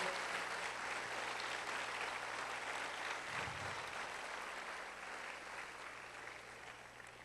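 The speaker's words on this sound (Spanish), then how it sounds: "démele un aplauso bien fuerte a ese maravilloso Dios" A church congregation claps loudly during a Spanish-language service, a dense sustained wash of applause that slowly fades toward the end.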